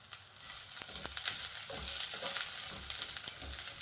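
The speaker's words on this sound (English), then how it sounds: "sliced onion, to fry them. Now I'm going to fry it." Sliced onions frying in a pan for Sri Lankan dhal curry, a steady broadband sizzle with occasional crackles and soft scraping stirs, close and continuous throughout.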